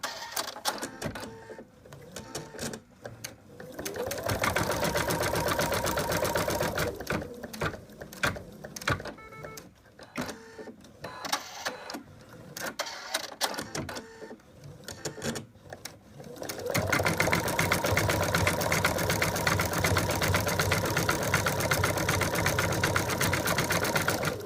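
An embroidery machine stitches a placement line for a dog's leg in an in-the-hoop toy, giving fast rhythmic needle chatter in uneven bursts and then a denser continuous run toward the end, close by and with no voices.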